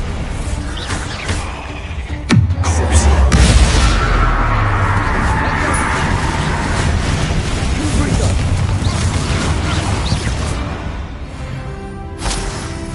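Bombarda spell blasting in a video game set in catacombs, a sudden loud boom followed by a long rumbling, crackling rush of debris that fades slowly, with a brief later thud.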